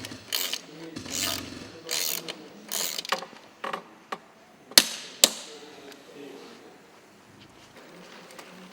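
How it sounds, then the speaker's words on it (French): Tightening the axle nut of an FSA MegaExo carbon road crankset with a torque wrench and 8 mm insert: a run of rasping ratchet clicks and metallic rubs, close up, ending in two sharp clicks, then quiet handling with a faint voice. "Vissez l'écrou de l'axe en utilisant une clé dynamométrique avec un insert de 8 mm."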